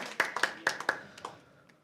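A few hands clap for a spelling bee contestant: sparse, distinct claps in an uneven rhythm, fairly quiet, thinning out and fading after a second.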